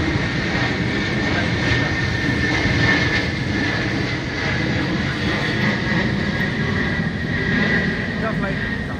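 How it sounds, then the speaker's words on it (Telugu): A very large airplane roars overhead in a steady, broad engine drone that stays loud throughout, with people talking underneath. "ఫ్లైట్, చాలా పెద్ద ఫ్లైట్"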